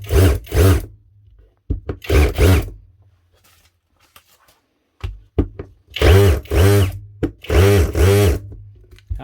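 Makita-copy cordless drill run in hammer mode, several loud bursts of rattling hammer action separated by pauses, close up, with a long quiet gap midway before three more rapid bursts.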